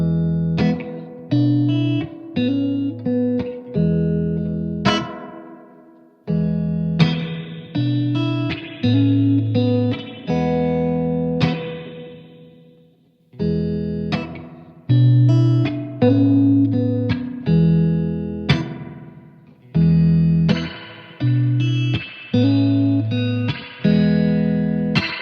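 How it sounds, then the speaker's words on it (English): Pulsar Primavera spring reverb pedal working through its presets from hi-fi to lo-fi on a clean played instrument: repeated phrases of plucked chords and notes, each with a splashy spring tail that rings out, loud and close, with no talking. "This is definitely the most pristine sounding spring reverb."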